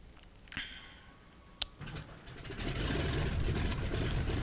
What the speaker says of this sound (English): So I'm starting up the right engine first,